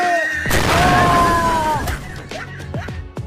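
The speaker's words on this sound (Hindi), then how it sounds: "लो पटाखे फोड़ो" Diwali firecrackers burst in a loud, close blast with crackling debris, followed by a series of sharper pops and bangs trailing off, with whistling tones amid the noise.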